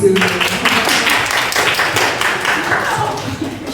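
Applause from attendees at a church family seminar in Gurgaon, India, a loud burst of clapping from a small room with voices mixed in beneath it.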